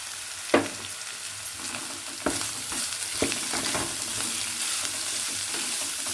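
Beans and carrots stir-frying in a pan for fried rice, a continuous close sizzle punctuated by a few sharp scrapes and knocks of the spatula.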